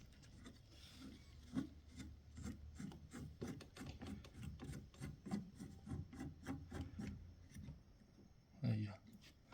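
A screw being driven by hand to fasten a gear shifter boot, heard as a series of close, rhythmic rasping twists, quiet and regular, with a louder scrape near the end.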